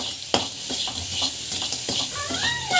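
Jaggery roasting and stirred in a hot pan for homemade protein powder, with a soft steady sizzle and repeated scraping strokes of a spoon against the pan, close and moderately loud.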